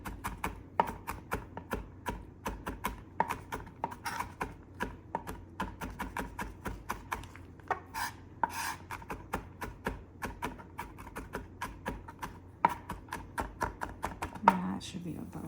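A knife chops fresh garlic on a cutting board for spaghetti carbonara, a fast, steady run of sharp close taps that continues throughout with only brief pauses.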